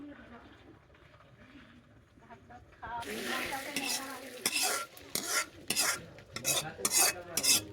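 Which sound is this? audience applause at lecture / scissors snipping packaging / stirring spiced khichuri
stirring spiced khichuri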